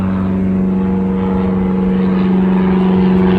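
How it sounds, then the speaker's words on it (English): Loud military planes flying over a property near a military base, heard as a steady, heavy droning roar that fills the whole stretch without letup. "all of a sudden you will hear loud planes flying over"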